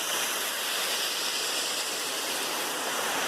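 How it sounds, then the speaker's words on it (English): A mountain stream on the Appalachian Trail near Damascus, Virginia rushes steadily, a dense even wash of flowing water with no voices over it. "This beautiful stream down there. Water flowing here."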